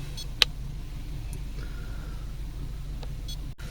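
A car engine idling steadily while a handheld automotive scan tool reads its data stream, giving a continuous low, even hum with a few faint clicks and a brief tick near the end.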